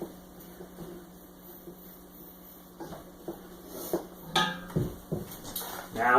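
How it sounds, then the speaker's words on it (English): Spoon scraping and clanking against a pot while chili meat, fat and vegetables are stirred, with scattered soft knocks at first and louder metallic clatters toward the end over a faint kitchen hum. "Give that a good stir and let those vegetables get mixed around with that meat and that fat that's in there"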